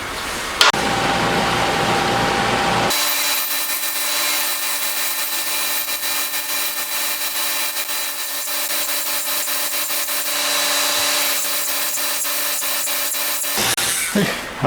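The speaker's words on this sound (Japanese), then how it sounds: "このリューターと、手やすり使って残りは仕上げてきますね" A metal sprocket for a handmade 125cc four-cylinder engine is finished with a rotary tool and a hand file, giving a close, continuous high grinding whine broken by fine rasping strokes.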